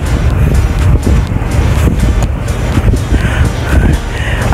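A Suzuki GSX-S 750 motorcycle with an open exhaust and no muffler tip runs nearby. It makes a loud, harsh, continuous roar with rough pulsing, close to the microphone and without talk.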